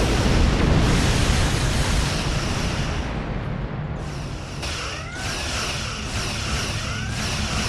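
Weapons fire on a Borg cube in the Star Trek Online video game makes a loud, continuous roar of booming blasts with sweeping whine-like tones, without any talk.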